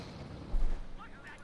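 A tank gun fires in the Company of Heroes 2 strategy game, scoring a hit on a Pershing tank: one low, booming thud in the middle of the moment, heard under a commentator's steady speech.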